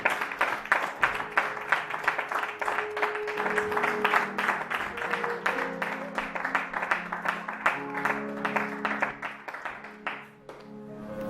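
A church congregation claps steadily in rhythm, with quick even claps running throughout alongside sustained sung or instrumental tones.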